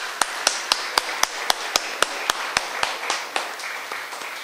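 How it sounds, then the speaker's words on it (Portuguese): A church congregation claps together in a steady, even rhythm, about a dozen sharp unison claps that then soften and blur into looser applause. "Vamos dar uma salva de palmas para Jesus, que Ele merece."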